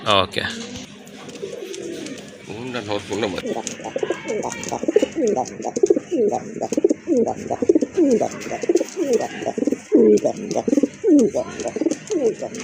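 Large pigeons from a fancy-breed collection, one pair black and another yellow, coo steadily and close at hand. The deep, rolling calls overlap in a continuous chorus that runs throughout.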